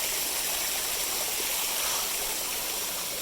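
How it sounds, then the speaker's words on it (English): A small waterfall in a creek pours steadily, a continuous close rushing and splashing of water with no voices over it. "Got a little waterfall here."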